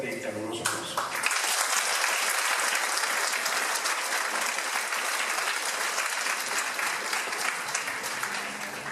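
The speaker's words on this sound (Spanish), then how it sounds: "a quien lo recibimos con un fuerte y caluroso aplauso" Steady, loud applause from a university lecture audience welcomes a speaker to a master class. It begins after a short spoken introduction and carries on evenly to the end.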